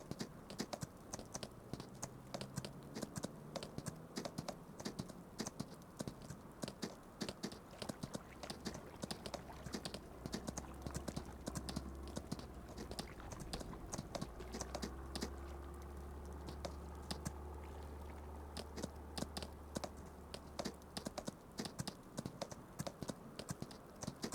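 Horse hooves clip-clop steadily in Farming Simulator 25, a continuous run of quick, light hoof taps over a low engine-like hum, fairly close and moderately loud with no talk.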